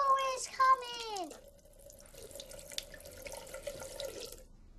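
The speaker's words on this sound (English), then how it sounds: "Turn on the tap." A tap is turned on for tooth brushing, and water runs from it in a steady, close stream. A brief voice and a sliding tone come just before the flow starts.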